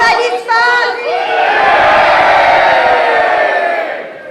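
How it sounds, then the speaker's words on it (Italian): A loud crowd at a wedding gala cheers and whoops for the newlyweds, with shouted voices swelling into a sustained roar that fades toward the end. "applauso, via, bravi. Viva gli sposi!"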